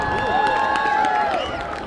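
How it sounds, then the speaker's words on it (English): Crowd applause and cheering at a high school football game for the Ashwaubenon dance team, steady and fairly loud from start to end, with a sustained whistling tone sweeping over the noise. "Let's give a big round of applause for these 45 young ladies"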